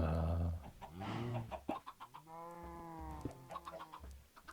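Chickens in the video game Minecraft cluck in a short burst of several harmonic calls, fairly close and clear, with game sounds scattered around them and no talking.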